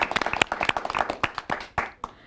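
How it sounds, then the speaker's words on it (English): Brief burst of audience clapping after a dance performance at a live talk-show taping, fairly close and loud, with sharp irregular claps over about two seconds that thin out and stop. "Big round of applause to them again."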